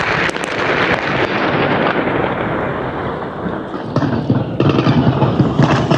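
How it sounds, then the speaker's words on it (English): Explosions and gunfire ring out in a war zone in Ukraine, where soldiers take cover by a river during a standoff across a bridge. Dense, continuous crackling and booming rumble steadily throughout, with sharper bursts near the end. "Explosions and gunfire, a face-off across the bridge."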